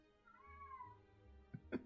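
A house cat gives a drawn-out meow, fairly faint and close, followed by a couple of soft thumps in an otherwise quiet room.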